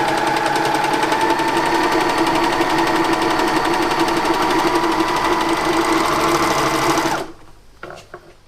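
A sewing machine runs continuously at high speed, stitching and trimming the edge of a shirt seam, a loud dense mechanical whir that stops abruptly near the end, leaving a few faint clicks.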